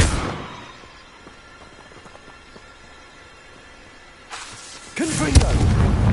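A Confringo fire spell explodes in Hogwarts Legacy, heard as a sharp burst at the start that fades away, then another loud, rumbling blast near the end.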